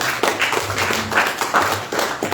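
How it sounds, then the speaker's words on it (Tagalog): A church congregation at a Sunday service claps for the Lord, a short burst of moderately loud applause from a group with uneven rhythmic hand claps. "Okay, sige, palakpakan natin si Lord."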